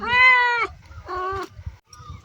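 A cat gives two clear, close meows, one long and one shorter, in a rural Uttarakhand village home, with faint low background rumble between them.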